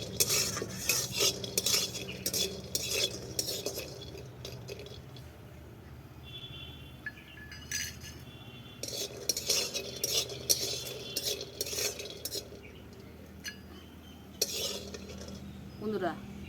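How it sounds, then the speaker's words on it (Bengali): Bori (lentil dumplings) being stirred in a kadai, with bursts of scraping and clinking from a metal spoon against the pan that come in groups and then pause, close and fairly quiet, with no talking. "বড়ি ভাজা হয়ে গেছে"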